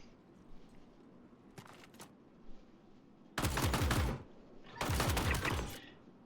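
Pulverizer weapon in Star Citizen firing two loud, sustained bursts of rapid shots, each lasting about a second, after a couple of faint distant pops.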